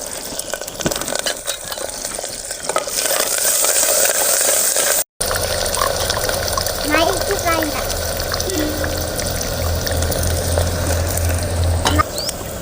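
Small shallots fry in hot oil in a pan, giving a steady, close sizzle with crackles and occasional stirring scrapes throughout, while a person talks over the cooking.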